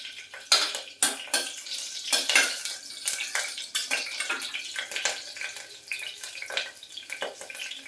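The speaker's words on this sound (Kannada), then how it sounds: "ಸಣ್ಣ ಉರಿಯಲ್ಲಿ ಫ್ರೈ ಮಾಡಿ, ಇಲ್ಲಾಂದರೆ ಸೀದೋಗ್ಬಿಡುತ್ತೆ." Green chilies frying in oil in a pan for tomato rice, with a steady sizzle under repeated metallic scraping and clinks of a spoon against the pan, up close and fairly loud.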